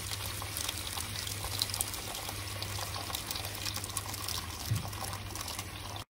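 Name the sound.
pouring water into a pot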